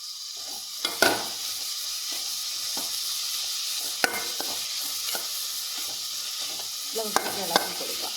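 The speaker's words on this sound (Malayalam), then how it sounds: "ഇളക്കി കൊടുക്കുക." Onions, green chilies and tomato sizzle steadily in a pan while being stirred, with a few sharp scraping clacks of the spoon against the pan over the constant frying hiss.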